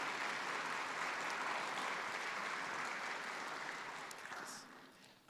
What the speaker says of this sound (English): So let's give a round of applause for our parents and families.